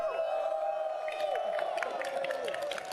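Dense crowd murmur and scattered shouts fill a large arena at The International 2023 Dota tournament, a steady loud wash of many voices with occasional cheers rising throughout.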